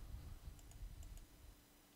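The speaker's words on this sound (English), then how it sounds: "let's type it in" Faint, sparse clicks of typing on a computer keyboard, a few light keystrokes over a low background hum, close by and quiet.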